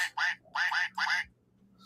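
Three loud duck quacks in quick succession, close and clear, with a short gap after the first, over a faint low background hum and no talking.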